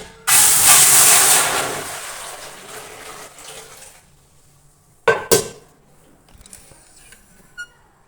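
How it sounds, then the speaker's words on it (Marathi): Water rushes into a hot pot with a loud steamy hiss that fades over a few seconds, followed by a couple of sharp metallic clanks. "आता इथं मी पातेल्यात पाणी टाकून घेतलंय."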